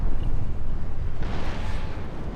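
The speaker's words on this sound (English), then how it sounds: "now I have my 2 lead frigates firing on one Frenchman" Frigates firing cannons in a Napoleon Total War naval battle, a deep rumbling boom of broadside fire rolling on as a continuous low roar.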